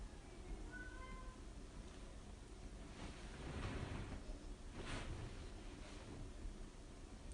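A pet cat meows over a steady wash of background noise, with a few short cries spread through the middle of the clip and no talking.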